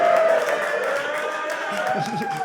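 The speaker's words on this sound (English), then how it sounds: "There was a lot of white people cheering for that." A stand-up comedy club audience cheers and whoops in a steady, dense wash of crowd noise, with scattered shouts rising near the end.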